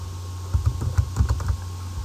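A computer keyboard taps out a quick run of keystrokes while login details are entered, close and fairly loud over a steady low hum, with no talking.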